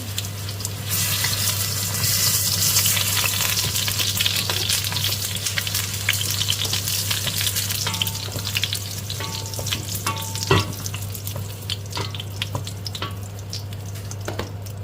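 Tofu and aromatics such as garlic and onion sautéing in a pan for ginisang toge, a loud continuous sizzle with a steady low hum beneath, plus occasional clinks of a utensil against the pan.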